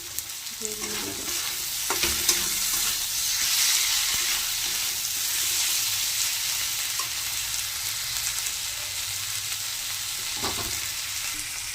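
Tomatoes and green chillies fry with bitter gourd and potato in a pan, a dense close sizzle running continuously while a spatula scrapes and knocks against the metal a few times.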